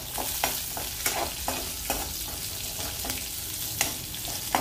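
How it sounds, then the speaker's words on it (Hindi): Chilies, garlic and cumin fry in hot ghee in a pan, giving a steady close sizzle broken by several sharp crackles and pops over the almost five seconds, with no voices. "तब हमारी मिर्चें, लहसुन, जीरा सब भुन गया है।"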